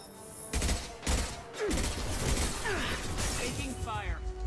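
Gunfire bursts in the Mass Effect 2 video game, a clutter of shots and impacts that builds into sustained fire, with a voice speaking over it.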